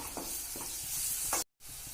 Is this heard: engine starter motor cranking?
no